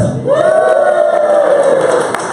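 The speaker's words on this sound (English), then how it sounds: "now we need a group cheer because now we have Chris" A small group of people lets out a sustained cheer together, loud and close, a held collective shout lasting about two seconds before trailing off.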